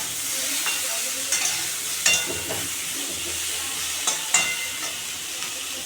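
Bhetki fish curry with green jackfruit and plantain stir-frying in a pan, giving a steady loud sizzle and hiss with occasional scraping stirs of a spoon against the pan, and no talking.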